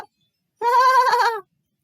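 A single sheep bleats once, loud and close, a wavering call lasting under a second against silence.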